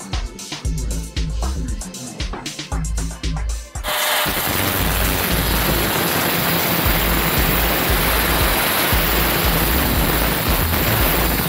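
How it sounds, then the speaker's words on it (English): A grinder cleans up welded steel; after a few seconds of intermittent clattering and contact, it settles into a loud, steady, harsh grinding roar that runs to the end, up close. "We'll clean it up over here on the grinder."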